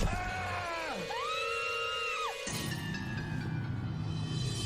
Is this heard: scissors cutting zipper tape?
no